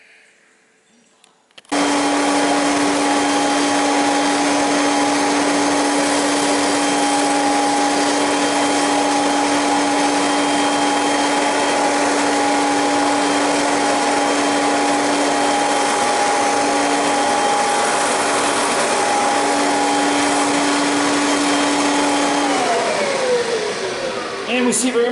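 A Kirby vacuum cleaner, a direct air machine, drones loudly and steadily for over twenty seconds after a sudden start, with a strong whining hum that dips in pitch near the end.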